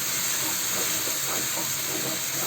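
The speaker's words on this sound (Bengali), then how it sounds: "এবার আমি এই মশলাটাকে একটু কষিয়ে নিই" Spice paste with onion and green chili sautéing in a pan for a duck roast gives a steady, loud, unbroken sizzling hiss with no voices.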